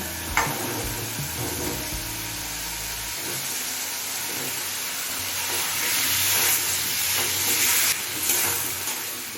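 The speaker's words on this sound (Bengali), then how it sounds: "ওলটা দিয়ে সব কিছুর সাথে ভালোভাবে মিশিয়ে নিয়েছি" Elephant foot yam cooking with hilsa fish head in a pan, stirred so a steady sizzle and steamy hiss run beneath a few scraping strokes; near but fairly quiet, swelling slightly toward the end, with no voices.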